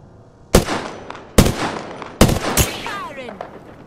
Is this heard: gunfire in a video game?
yes